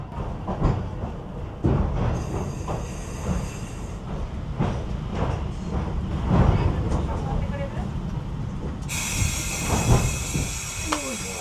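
A Thomas-themed train pulls into Shin-Kanaya station on Japan's Oigawa Railway with steady rumbling, hissing steam and faint wheel squeal. Voices carry on throughout the scene.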